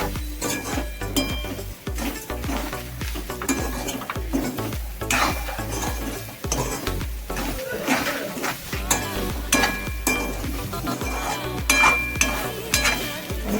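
A modak filling roasting in a pan over medium gas, with constant close stirring, scraping and clinking of a spoon against the pan over a soft sizzle, busy and fairly loud throughout.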